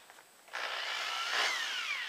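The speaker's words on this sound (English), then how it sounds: "Okay, so we'll do a quick little drill here." A DeWALT 3/8-inch corded variable-speed drill spins up and bores into wood, a steady whine with a rising-then-falling pitch heard close and alone.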